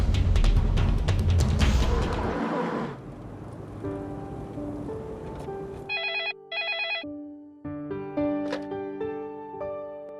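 A telephone rings with repeated electronic bell tones in short bursts, clear and fairly close, after a loud noisy stretch of a drama scene with music.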